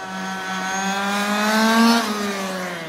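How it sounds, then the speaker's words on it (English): A fifth-scale model engine running lean whines steadily, the revs climbing and then dropping with uneven popping, near and fairly loud, with no talk over it. "See how it's popping and planing?"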